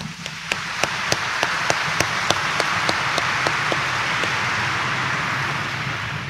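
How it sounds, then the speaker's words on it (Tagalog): A church congregation at a morning Mass at Quiapo Church applauds with a steady wash of distant, roomy clapping, a few sharper single claps rising above it early on. "mas pumalakpak tayo ng malakas"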